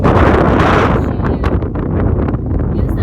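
Strong wind buffets the microphone in a loud, continuous roar, gusting unevenly with rustling bursts throughout.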